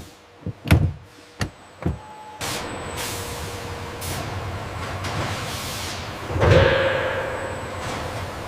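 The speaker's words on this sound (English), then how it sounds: "Secure the latches." Latches on a helicopter's Fenestron tail rotor assembly are secured, giving a few sharp close metallic clacks and thumps followed by a steady hiss and a heavier clunk.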